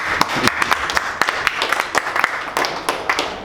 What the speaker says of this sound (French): Bon, applaudissez pour vous.